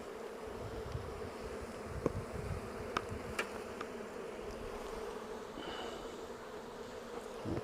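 Honeybees from an open hive buzz in a steady, fairly faint drone, with a few sharper passes of individual bees coming close, and no voices.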